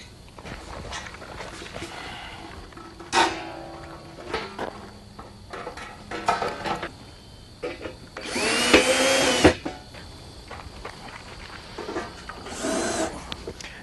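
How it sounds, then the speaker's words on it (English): A cordless drill drives self-tapping screws into the verticals of a round above-ground steel pool, with short whirring bursts and a longer loud run near the end amid clatter and handling noise, no talk. "fasten the top plate to the vertical with 3 self-tapping screws"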